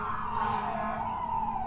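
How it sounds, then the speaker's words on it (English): An ambulance siren wails steadily outside a room where crochet work is underway, a continuous, fairly prominent wavering tone that holds for the whole stretch with no talk over it. "apologies for the ambulance"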